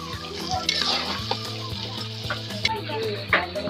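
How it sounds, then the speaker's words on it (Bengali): Meat is stir-fried kosha-style in a pan, with a loud crackling sizzle broken by repeated scrapes and knocks of the spoon over a steady humming tone. "এটা সুন্দরভাবে কষিয়ে নেওয়া হচ্ছে"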